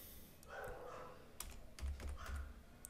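Typing on a computer keyboard while filling in data for an online form, a few soft scattered key clicks at close range, faint and alone.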